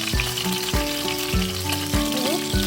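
Food frying in a pan for paksiw, a bright continuous sizzle broken by a few regular clunks of stirring or turning, close and fairly loud with no voices.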